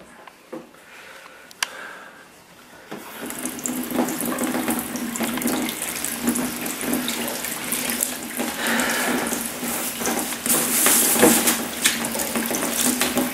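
A tap turns on and water runs steadily into a sink, a loud close rushing splash that continues unbroken after a quiet start, with no talk.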